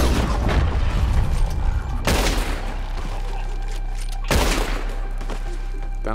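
Gunfire in a Red Dead Redemption 2 shootout, with two sharp, loud blasts followed by rumbling tails, set over a steady low engine-like drone.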